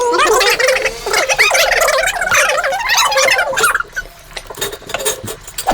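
Loud, close gobbling calls from a fowl, a rapid string of warbling cries that fades after about four seconds into quieter scattered sounds, with no talk.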